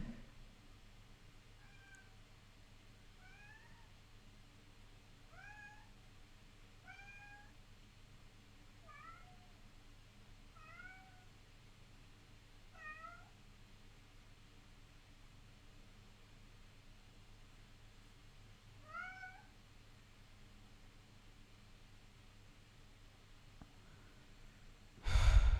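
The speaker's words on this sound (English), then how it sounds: "you guys hear the cat?" A cat in a closed room down the hall meows again and again, faint and muffled, in short paired cries spread across a quiet, hissy room, followed by a sudden bump at the end.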